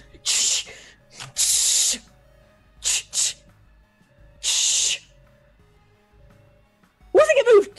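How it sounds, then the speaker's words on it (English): A fire extinguisher lets out several short, loud hissing bursts in close succession, with voices talking between and after the sprays. "spray it with the extinguisher"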